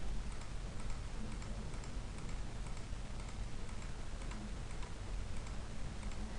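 Computer mouse left-clicking repeatedly while vertexes are added in GIS data-editing software, a steady run of small close ticks against a constant low background hum, with no talking.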